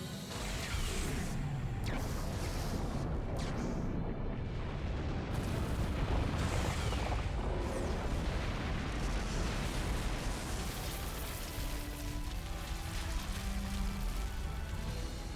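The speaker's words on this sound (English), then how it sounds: "Lorraine Lemure firing anti-aircraft lasers." Anti-aircraft laser fire in the video game Fuga: Melodies of Steel 3 makes a dense, loud barrage of blasts and rumbling booms. The roar is continuous and layered, with no one speaking.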